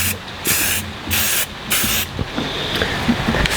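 Black spray paint hisses from an aerosol can onto a plaster sculpture on a garage floor. Several loud bursts come close together, each lasting about half a second, followed by a quieter, softer stretch of spraying.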